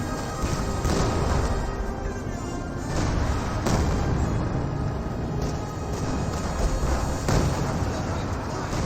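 Tank cannon fire aimed at a Sherman tank in Company of Heroes 2, heavy booming shots and rumbling battle noise running continuously through the clip, with a few sharper blasts standing out over a steady dense roar and a voice talking over it.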